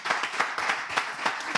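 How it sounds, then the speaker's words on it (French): An audience clapping in steady rhythmic unison, a close and fairly loud burst of applause with no talking over it. "On applaudit."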